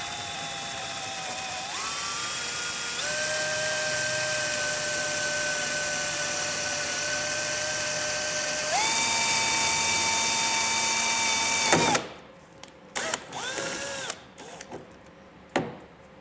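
A power drill with an 11/64 bit bores out rivets on a truck panel of a 2022 Ford during a Curt trailer hitch installation, whining steadily and shifting pitch as it loads up, then stopping with a few short bursts and clicks.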